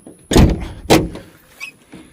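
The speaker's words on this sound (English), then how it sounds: "Dang, that door sticks pretty good." A sticking door on a Ford F-150 truck gives two heavy, close thuds about half a second apart as it is forced, followed by a couple of faint clicks.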